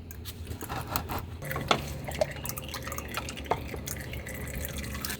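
Motor oil from a Honda Civic Type-R FK8 drips into a drain pan, giving scattered soft splats and drips over a faint background hiss, close and quiet, without talking.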